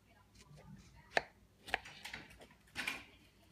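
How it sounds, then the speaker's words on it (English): A knife chops through a tomato on a cutting board in three crisp, separate strikes, close and fairly quiet. "I'm going to cut my tomato in half,"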